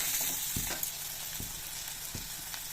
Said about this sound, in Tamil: ஆனியன் ஃப்ரை பண்ணிவிட்டு பார்க்கலாம்.